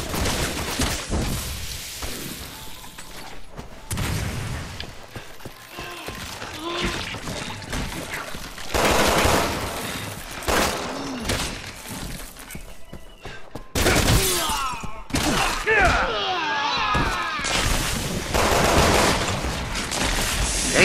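Gunfire in the video game Resident Evil 6, with dense bursts of shots and impacts running through a busy game mix over about twenty seconds, loud and continuous with brief lulls.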